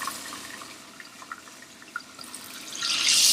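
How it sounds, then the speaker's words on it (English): Cooking oil poured off from a frying pan while making rouladen: soft irregular drips and trickles that rise into a louder pouring splash at the end, no talking. "Now I'm going to pour off a good amount of this oil."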